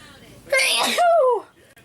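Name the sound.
a person sneezing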